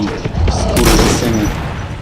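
A burst of loud gunfire in the video game Metro: Last Light, several sharp booming shots in quick succession with rumbling echo.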